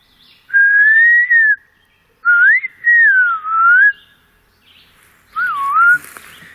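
A person whistles in imitation of a Bigfoot call with three clear, loud, rising-and-falling whistled phrases separated by short silences, standing alone in a quiet outdoor setting.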